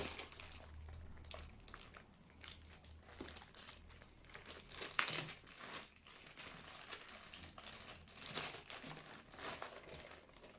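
A plastic bag crinkles and rustles continuously up close as it is handled while unboxing an HP Pavilion 15-CX0044NT laptop, with no voices.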